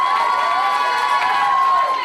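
Wedding sangeet guests cheer and clap for the two choreographers, a dense crowd roar of shouts and applause with music tones sustained underneath.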